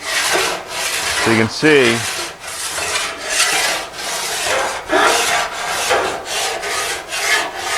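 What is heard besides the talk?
filing aluminum shroud with fine furred file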